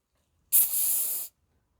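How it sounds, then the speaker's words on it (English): Air rushes out of a slightly deflated modelling balloon being made into a balloon dog, a single close, sharp hiss lasting under a second and then stopping abruptly. "Deflate the balloon slightly."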